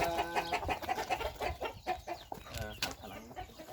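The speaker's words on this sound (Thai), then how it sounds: "มาดูไก่ อันนี้ก็เรียกไก่" Chickens at a Thai farm in the early evening, including a game-fowl type, cluck in a busy, overlapping chorus with sharp calls and a brief crowing-like note, close and fairly loud with no talking.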